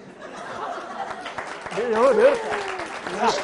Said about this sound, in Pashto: یو چکچک ورته وکړئ